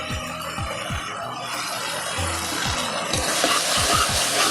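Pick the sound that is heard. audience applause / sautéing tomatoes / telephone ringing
sautéing tomatoes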